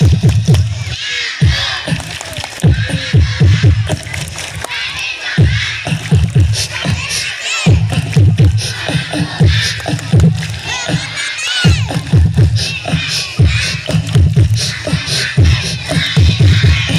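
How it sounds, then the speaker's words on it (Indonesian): Children at a santri gathering perform the tepuk anak soleh clapping chant, loud rhythmic group claps in repeated bursts mixed with chanted voices and crowd shouting, with brief pauses between phrases. "Ayo kita ikrar dengan tepuk anak soleh."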